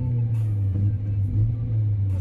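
A steady low engine drone from an Audi A3 1.8 Turbo, held at one pitch with light throttle blips, close and fairly loud throughout.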